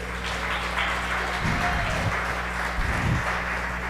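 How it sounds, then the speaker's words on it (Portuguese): A congregation at a church service applauds steadily for about four seconds, a dense wash of clapping over a low steady hum, with no voices standing out. "Dá um aplauso para Ele."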